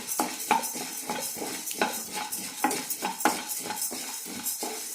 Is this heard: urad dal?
yes